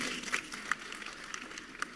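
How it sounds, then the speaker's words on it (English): Audience applause at a public talk: a steady, moderately loud wash of clapping with a few sharper claps standing out. "Please, let's give her a round of applause."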